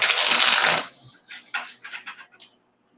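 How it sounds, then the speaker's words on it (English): A deck of tarot cards riffled in a dense burst for about a second, followed by several lighter, shorter card flicks and taps nearby. "Just want to get a really good shuffle going on."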